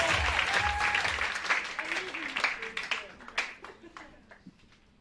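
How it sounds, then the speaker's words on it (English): Comedy club audience clapping at a standup show, a dense burst of applause that thins and fades over several seconds, with a few cheers and voices mixed in. "Why'd you stop clapping?"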